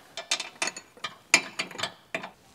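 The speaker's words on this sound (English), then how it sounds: "I just have enough clearance to get in here with my wrench and remove that airline the rest of the way" Ratcheting wrench loosening an air strut airline fitting under a Land Rover LR3, a series of crisp close clicks in short irregular bursts with brief pauses between, no talk.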